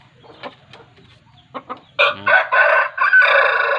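Fighting roosters being trained cluck softly with a few short calls, then one bursts into a loud, close crow that carries to the end.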